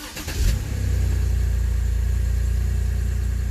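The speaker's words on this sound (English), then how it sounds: "car starts right up," A BMW 328i E90 engine cranks and catches quickly, then settles into a steady, smooth idle heard up close and alone, with a loud burst at the start giving way to a constant low hum.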